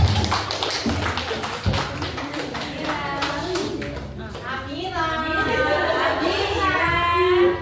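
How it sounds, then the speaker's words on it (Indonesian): Teachers applauding in a classroom, a brisk burst of hand clapping that fades into chatter and children's voices with excited speech and squeals over the top. "Tepuk tangan lah Bapak Ibu."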